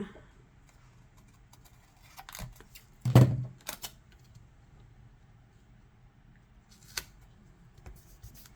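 Scissors snip paper while a weekly planner layout is being decorated, with a few short, sparse cuts, the loudest one near the middle, set against a quiet background.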